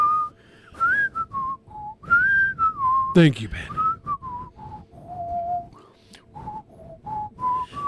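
A person wearing dental aligners whistles a tune, likely a cartoon theme song, in a steady melodic line of sliding and held notes lasting several seconds, close and clear. A brief spoken phrase cuts in near the end.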